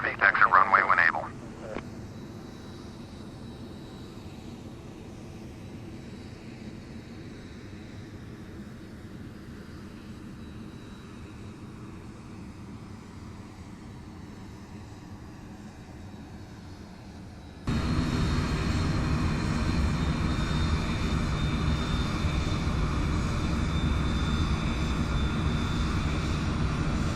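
A Delta heavy airliner taxis after landing in the FSX flight simulator, a steady engine drone and hiss that jumps louder partway through, with a radio voice at the start.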